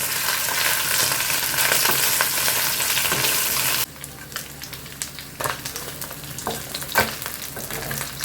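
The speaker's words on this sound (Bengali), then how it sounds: "মাছটাকে একটু কড়কড়ে করে ভেজে নিলাম।" Fish frying crisp in a hot pan, a loud steady sizzle that drops sharply partway through to a quieter, crackling fry with scattered pops and spatula scrapes.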